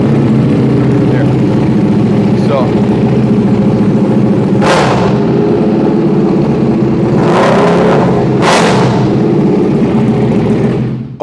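A 2024 Buell motorcycle with an in-house off-road track exhaust system idles with a rumbling drone, then snaps through three sharp throttle blips, one alone and two close together near the end.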